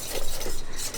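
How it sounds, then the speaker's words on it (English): Sugar and egg whites being stirred in a pan with the sides scraped, a brief close rasping rub that pulses in quick repeated strokes. "Making sure to get the sides scraped so that all that sugar is dissolving"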